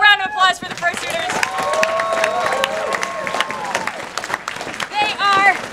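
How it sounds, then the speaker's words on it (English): Audience applause at Anthrocon 2022 for fursuiters after a Fursuiting 101 panel, a steady sustained clatter of many hands with crowd murmur, speech at the start and end. "Let's give it a big round of applause for the Fursuiters."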